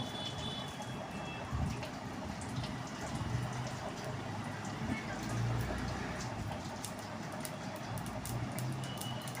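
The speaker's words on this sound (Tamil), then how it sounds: "இப்போ வந்து கடுகு பொரிய ஸ்டார்ட் ஆக போகுது." Mustard seeds spluttering in hot oil as they are tempered for cucumber sambar, giving a continuous soft crackle with scattered sharper pops, close and fairly quiet, with brief speech at times.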